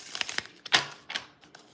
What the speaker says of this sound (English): I want to get one good riffle shuffle in there